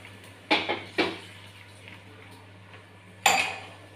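Rice stirred in a pot with a spoon: a few sharp metallic clanks against the pot, two close together early and another after a pause, over quiet background.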